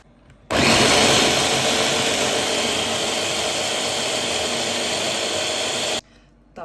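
A blender runs for about five and a half seconds, whirring loud and steady as it purees bananas, eggs, vanillin and milk for pink banana pancake batter, starting and stopping abruptly with quiet before and after.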